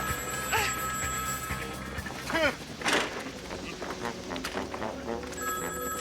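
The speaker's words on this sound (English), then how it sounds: "let me answer that ringing phone" A telephone bell rings in a TV comedy scene, sounding in a few bursts against busy background noise and other sounds.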